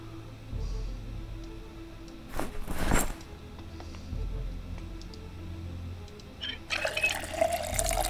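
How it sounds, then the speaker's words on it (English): Water bottles are filled in Project Zomboid, with a steady running-water hiss and trickle over a low background hum, swelling briefly near the middle and again toward the end. "we might as well fill them up in here."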